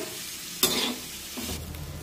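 An onion sizzling in a pan over medium heat, a steady close frying hiss with a sudden burst of stirring or tossing, then a second scraping stir, no talking.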